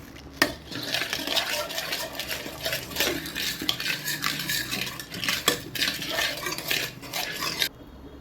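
Powder being mixed into ground senna leaf juice with a spoon, rapid clinking and scraping against a metal bowl, steady and close for several seconds.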